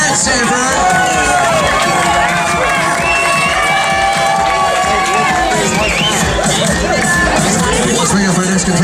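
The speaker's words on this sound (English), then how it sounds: "Make some noise. Let's do it again for Tasha" A crowd at a bikini contest at a Hooters in Sanford, Florida cheers and whoops for a contestant, with a dense, continuous roar of voices and shouts sustained loudly throughout under general hubbub.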